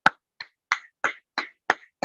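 Hand clapping from a single person, seven sharp, close claps at an even rhythm of about three per second, each separated by silence.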